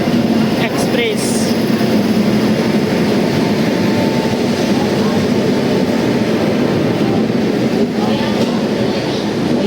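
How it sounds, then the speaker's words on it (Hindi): The Bihar Sampark Kranti Express pulls into a station platform with a loud, steady rumble and rolling clatter that fills the whole stretch, while voices murmur faintly beneath it. "गाइस आ गई हमारी ट्रेन, बिहार संपर्क क्रांति एक्सप्रेस।"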